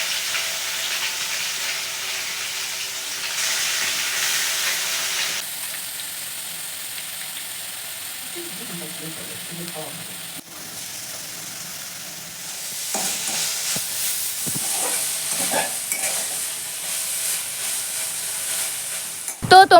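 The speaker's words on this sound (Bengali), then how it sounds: "কড়াইতে পরিমাণ মতো তেল দিয়ে লোটে মাছগুলো এবার দিয়ে দেবে" Bombay duck (lote) fish fry in oil in a wok, giving a steady hiss and sizzle throughout with occasional stirring clatter, loud and close.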